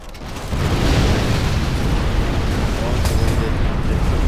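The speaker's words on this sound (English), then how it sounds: "We have launched our nuclear missile." A Chinese nuclear missile launches in Command & Conquer Generals Zero Hour, a loud sustained roaring rumble that rises after a brief quiet start and holds steady, with no talk.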